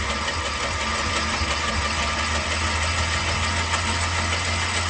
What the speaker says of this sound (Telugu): మా నాన్న బండి ఇప్పుడు స్టార్ట్ చేస్తానండి చూసేయండి